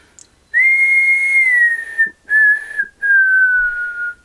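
A person whistles into a microphone, close and loud: one long slightly falling tone, then two shorter notes separated by brief gaps.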